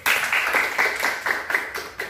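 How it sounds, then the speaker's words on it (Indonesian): A small classroom group claps together after a group discussion presentation, a dense, steady patter of hand claps lasting a couple of seconds with no talking over it. "berikan tepuk tangan dulu"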